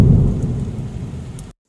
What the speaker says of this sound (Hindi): उनके घर पर आते ही भयंकर बारिश शुरू हो गई।